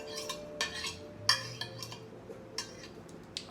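Chopped food pieces are tossed into a bowl in a home kitchen, producing a handful of quick, light clinks and soft taps spread unevenly through the moment, close and fairly quiet, with no talking.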